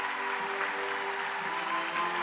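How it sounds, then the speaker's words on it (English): Steady applause from an audience at the Morgan Weanling Gala horse sale, a dense, even wash of clapping that holds at the same level throughout with no voices over it. "let's send him out with your applause"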